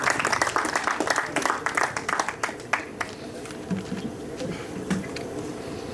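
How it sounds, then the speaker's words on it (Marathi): Clapping from a school reunion audience cheering their teachers, a loud burst that is dense at first and then thins into scattered claps with voices in the background. "एकदा जोरदार यांच्यासाठी टाळ्या झाल्या पाहिजे"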